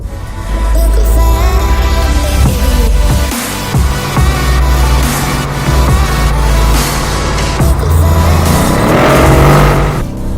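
A 2014 Mercedes-Benz E63 AMG-S car engine roars steadily close by while driving, with revving and deep exhaust rumble throughout, loud and continuous.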